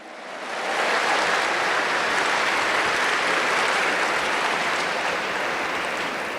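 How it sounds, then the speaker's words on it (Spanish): Loud, dense applause from the audience at a church laity assembly, swelling in within the first second and then holding steady as a thick, continuous roar of clapping. "Dámosle un aplauso a Dios."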